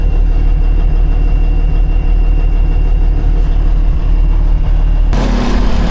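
A farm tractor with no front tires idles close by, a steady, loud, low mechanical rumble that stays even throughout before a sudden shift in tone near the end; no one speaks.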